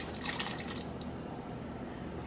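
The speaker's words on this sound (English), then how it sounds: "I just fill the pot until it fills up to where like all the food meets" Water running into a cooking pot from a tap, a steady faint rush of pouring liquid with brief splashy bursts early on.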